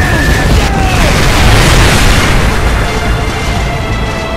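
A danger-close artillery strike in Modern Warfare 2 lands as a continuous, very loud roar of booming explosions, thick and rumbling, that fades slightly toward the end.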